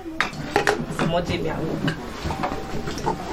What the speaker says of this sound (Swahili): We are going to place these 4 stones.